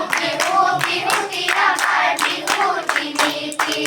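Hands clap steadily along to a Bihu song, sharp claps repeating roughly every half second under a loud sung melody.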